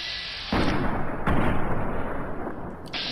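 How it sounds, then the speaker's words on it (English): Gunfire from Fallout: New Vegas as the player fires at a giant rat: two loud, broadband shots about 0.8 seconds apart, each followed by a sustained booming rumble, with a softer burst near the end. "I wanted to shoot the giant rat."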